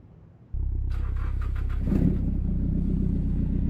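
A BMW M4 engine in a truck simulator game, heard from inside the cabin, starts after a brief quiet moment and settles into a steady, loud idle rumble that swells with a short rev midway.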